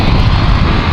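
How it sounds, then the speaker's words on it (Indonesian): A motorcycle with a loud open aftermarket exhaust roars close by on a road, a dense, steady engine blare with no pause across the whole second. "Oh knalpot brong"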